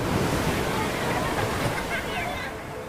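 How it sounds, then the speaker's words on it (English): Surging ocean surf from a rip current at sea, a steady loud wash of churning waves and water filling the whole stretch with no break. "What you are about to hear is the sound of me drowning."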